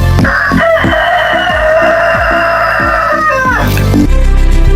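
Kienyeji chickens cluck in a close, loud flock while a rooster lets out a long crowing call that rises and breaks off, repeated clucks pulsing steadily underneath.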